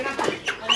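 Chickens at a poultry stall in Daudpur Bazar market, Nawabganj, Dhaka, give a few short, close clucks and squawks over light market background noise.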